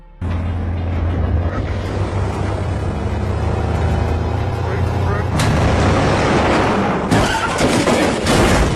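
Car engine of a rebels' vehicle in a film, a loud rumbling drive that builds with clattering and impact-like bursts in the later seconds, no talk heard.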